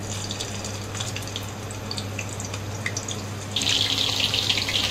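Cut potatoes dropped into hot oil in a wok, a steady bright hiss and crackle of frying that grows louder and fuller toward the end, with no talking.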